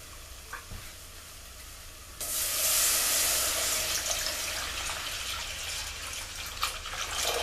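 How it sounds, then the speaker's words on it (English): Milk poured into a hot pan of roux for scalloped potatoes, a sudden loud bright hiss and sizzle that starts after a quiet moment with a small clink, then settles into steady bubbling. "now we're going to add our milk."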